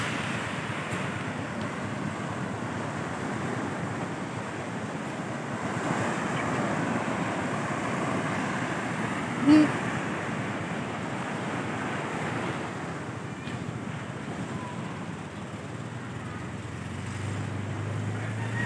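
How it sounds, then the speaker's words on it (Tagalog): Ocean waves washing onto the beach at Nasugbu, Batangas, a steady broad surf roar with wind buffeting the microphone, continuous and fairly even for the whole stretch. "So, marami pa rin ang alon dito sa Nasugbu,"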